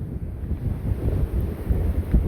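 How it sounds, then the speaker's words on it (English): Strong wind buffeting the microphone, a low rumbling roar that gusts unevenly throughout with no speech. "it's windy as heck out here"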